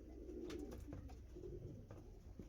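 Lambadi pigeons coo in a loft, several low throaty rolling calls with occasional faint clicks and rustles, fairly quiet and close.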